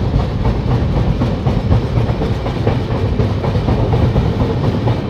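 Dhauli Express pulling into Kharagpur, a steady loud rumble of rail cars with continuous clickety-clack of wheels on track, heard from inside the moving train with no voices.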